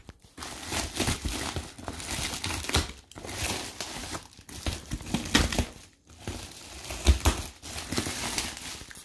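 Crinkly insulated packaging is unwrapped up close in loud bursts of crumpling and rustling, broken by short pauses, with no talking.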